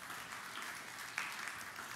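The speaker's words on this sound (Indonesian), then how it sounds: "Yang mau beri tepuk tangan yang meriah bagi Tuhan Yesus." A church congregation applauds for Jesus in faint, distant, steady clapping, a soft wash of hands without speech on top.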